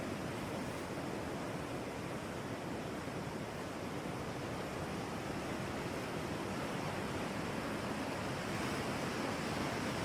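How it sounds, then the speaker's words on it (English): Recorded ocean waves play as a steady, loud wash of surf noise that holds evenly throughout with no talk over it. "I'm gonna turn these ocean waves down."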